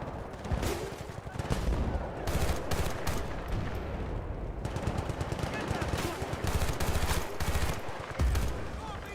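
Rapid automatic gunfire in the Battlefield Bad Company 2 campaign, loud dense bursts of machine-gun fire and shots with brief gaps, continuing across the clip with a voice occasionally under the shooting.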